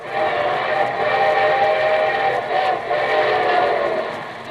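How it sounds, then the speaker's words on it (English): A train rumbles steadily, its whistle sounding in a long sustained blast over the rolling clatter of the cars. "And here comes our summer show train with your host"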